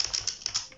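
Quick keystrokes on a computer keyboard entering a web address, a short burst of about six crisp, evenly spaced taps heard up close with no talking.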